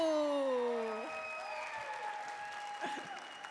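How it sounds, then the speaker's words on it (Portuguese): An audience applauds as Padre Demétrio is welcomed onto a podcast stage, the clapping steady and moderately loud with a voice briefly heard over its start. "Uma salva de palmas, por favor."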